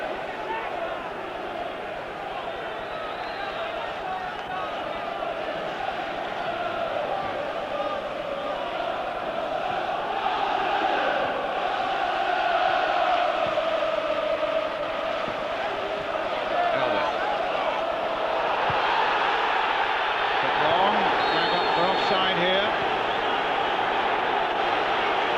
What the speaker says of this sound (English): The crowd were howling